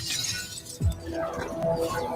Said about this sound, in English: Long ago, the star of Siliveth shattered.